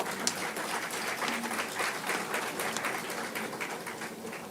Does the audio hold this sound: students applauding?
yes